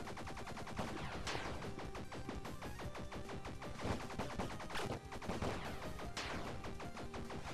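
Rapid, continuous pistol fire crackles through the 2D action game Bleed, layered with repeated impacts and other game effects in a dense, busy barrage.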